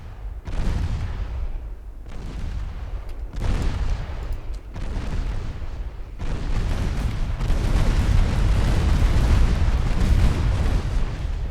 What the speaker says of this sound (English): See how much more effective the secondary guns are in dealing with transports?